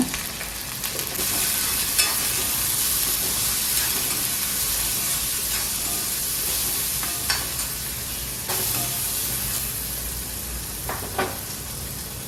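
Steady sizzling and hissing of onions sautéing with salt in a pan, with occasional stirring clicks and scrapes over a constant crackle, close and continuous.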